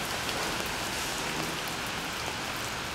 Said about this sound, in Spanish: Y me voy a meter bajo la lluvia,